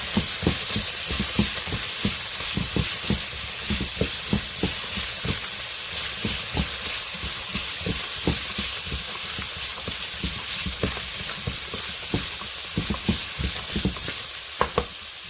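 Fried rice with shrimp, pineapple and garlic stirred in a hot pan: steady close sizzling with repeated scraping strokes of a utensil at a quick, uneven rhythm, and no talking.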